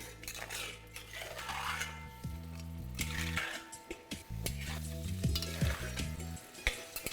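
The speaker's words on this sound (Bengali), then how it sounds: "আর নুনটা দেওয়ার পরে এটাকে ভালো করে মিশিয়ে নিন।" Salted mutton for a Kabuli pulao frying in a pot with a steady sizzle, as a spoon scrapes and knocks through it in repeated stirring strokes, close by, with a low hum running under it.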